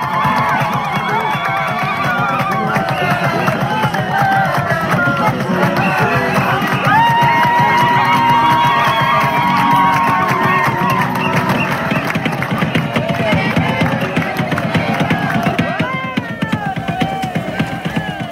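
A large outdoor crowd cheers, ululates and shouts continuously as the Sakalava queen appears on the royal house balcony, loud and sustained with high voices rising above.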